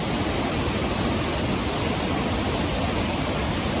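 A river rushes at a trail crossing on Oregon's Timberline Trail, a dense and steady roar of water that stays loud and close throughout, with no voices.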